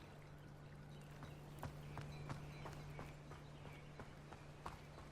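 Hooves clip-clop in a soft, uneven rhythm over a low steady hum in the video game Hogwarts Legacy, faint and somewhat distant, with no talking.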